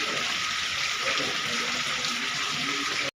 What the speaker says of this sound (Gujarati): અમારે કંઈક આવો વરસાદ છે